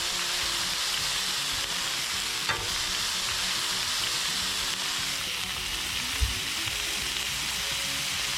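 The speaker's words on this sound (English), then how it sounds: "use it and a set of tongs to press out your Smashburgers" Smashburgers sizzle on a Blackstone griddle, a loud, steady hiss of frying fat that runs unbroken with a couple of faint clinks.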